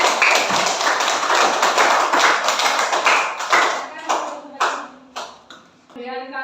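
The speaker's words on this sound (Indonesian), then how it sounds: "tepuk tangan buat Nabila." A classroom of students claps for a classmate, a brisk burst of many hands that thins into scattered separate claps and fades, with a voice at the end.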